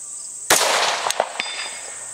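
A rifle shot fired downhill at a roughly 4-inch steel plate 230 yards away: one sharp, loud report close by, followed by a couple of fainter cracks and echoes trailing off.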